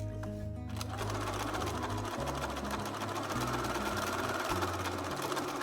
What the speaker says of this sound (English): I'm using a decorative hem stitch on the machine for added detail.